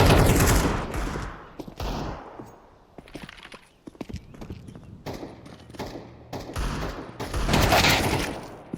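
Gunfire in a competitive shooting video game match between two school teams, loud bursts of rapid shots and single cracks in irregular volleys, with quieter gaps between.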